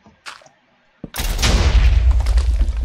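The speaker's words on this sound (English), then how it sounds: "I hate it when explosions do that" A Minecraft TNT explosion bursts after a brief quiet moment, a sudden loud blast that rolls into a sustained rumbling roar with crackling debris until the end.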